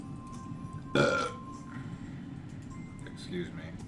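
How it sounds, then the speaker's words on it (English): One loud, abrupt burp erupts close to the microphone during a tabletop role-playing game session, standing out against quieter background chatter. "how dare you burp in my stream"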